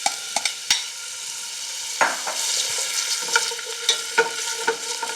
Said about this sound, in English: I just add the onions.